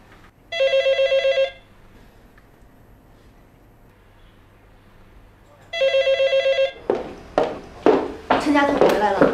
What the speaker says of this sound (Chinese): 刘厅长来电话了。